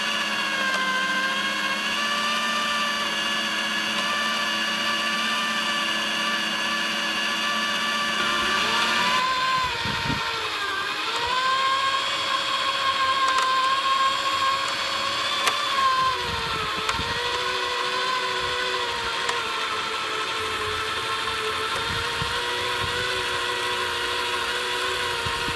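A power drill spins a grain mill crushing malted barley for brew-in-a-bag homebrew beer, giving a loud, steady motorized whine with stacked harmonic tones and a gritty grinding rattle, the pitch dipping and shifting slightly as load changes, continuous with no talking.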